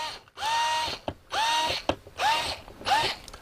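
A cordless push-start screwdriver whirs in four short bursts, each a whining motor spin-up with a mechanical ratcheting edge, separated by brief pauses, close and clear.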